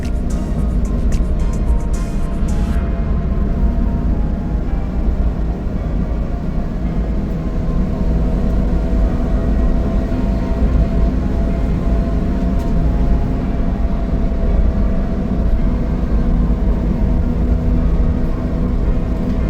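A DR17V 4x4 semiwagon with a turbo engine and automatic transmission, fully loaded, drones steadily while climbing an uphill road. The interior engine and road noise stays loud and even throughout, with no talking.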